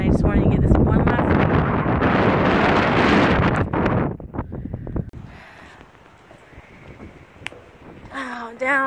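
Strong wind buffets the microphone atop Birch Knob Tower, a tall observation tower in Virginia, loud and continuous for about four seconds before easing into a quieter breezy rumble with faint scattered sounds.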